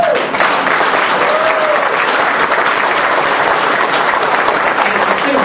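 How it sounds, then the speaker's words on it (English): Sustained, dense audience applause fills an award ceremony hall, loud and steady throughout without a break, many hands clapping together at close range. "Use some of that applause today."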